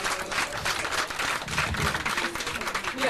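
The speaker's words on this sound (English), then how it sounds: "let's applaud them for thus far" An audience applauds a preservation group at a community event for the Rosa A. Lott School, with steady, moderately distant clapping spread through the room and a voice faintly underneath.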